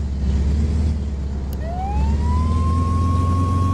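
An ambulance siren in the game Flashing Lights winds up from low to a steady high wail, rising over a loud, rumbling engine drone inside the moving vehicle.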